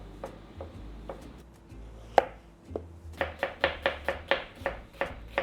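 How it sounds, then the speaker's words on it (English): A knife chops shiitake mushrooms on a board, a few scattered cuts at first, then a quick, even run of sharp, close taps. "I'm gonna chop."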